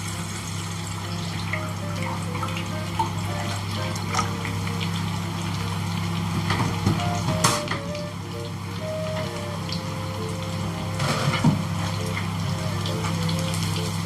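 Water pours and trickles steadily into a cooking pot for a gulaman gelatin dessert, a continuous moderate liquid splashing with some faint tonal ringing and no talk.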